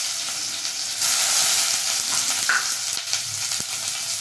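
Chopped onions frying in hot oil with cumin seeds in a kadhai, giving a loud, continuous close sizzle and crackle with faint stirring scrapes, with no voices.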